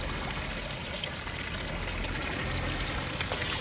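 Water gushes and trickles steadily from a broken water pipeline in Bhimavaram, a constant rushing stream, loud and close, with no talking.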